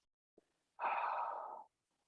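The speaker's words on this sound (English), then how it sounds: "And then release on the out breath." A single long, airy out-breath lasting nearly a second during qigong meditation, close and soft, preceded by a tiny click, with silence around it.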